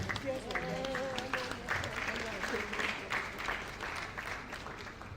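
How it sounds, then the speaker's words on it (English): An audience at an entrepreneurship lecture event applauds a guest of honor, steady moderate clapping with voices and faint talk mixed in throughout. "Please let's give him a round of applause."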